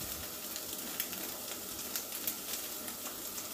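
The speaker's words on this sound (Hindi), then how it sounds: "थोड़ा सा मैं इसको सौते करूँगी" Boiled spiral pasta being sautéed in a pan with salt and pepper, a faint steady sizzle with light scattered ticks and pops throughout, no voices over it.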